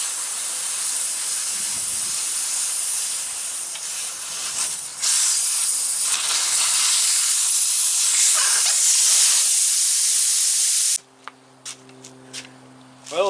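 Air hisses loudly and steadily out of a big truck tire's valve stem after the valve core is removed, a close, sustained rush that cuts off abruptly near the end, leaving a few faint clicks.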